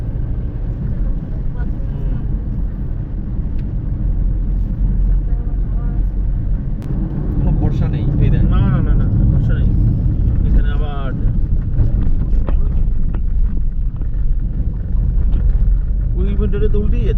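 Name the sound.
car driving on a highway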